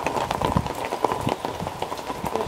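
Steady rain patters on surfaces outdoors in a vegetable garden, a dense continuous hiss with scattered close drops and no talking.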